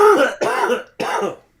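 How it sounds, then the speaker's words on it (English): Three short throat-clearing coughs in quick succession, close and fairly loud, with brief gaps between bursts and no talking. "You are coughing, you see?"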